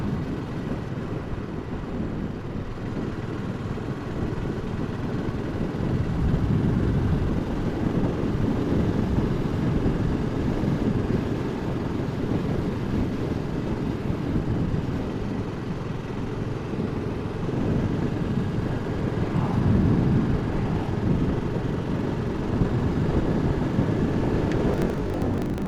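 A BSA Goldstar motorcycle rides along with a continuous low engine rumble mixed with wind buffeting, steady and fairly loud throughout, with slight swells as the throttle is rolled back and reopened.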